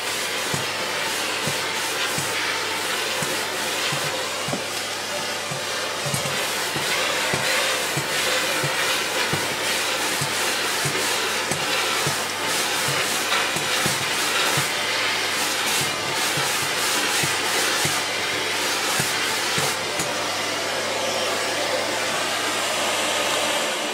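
A Miele Revolution 500 S556 vacuum cleaner runs on a low setting, a steady whooshing motor drone with a faint low hum underneath, unbroken for the whole stretch with no talk.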